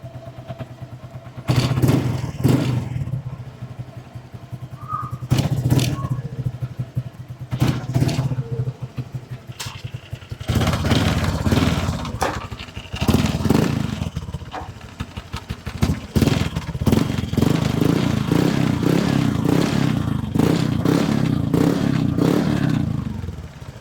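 Honda Click V2 scooter fitted with a TRC racing exhaust pipe, revved in repeated bursts: sharp throttle blips and rising roars, close and loud, with short pauses and some clatter between them.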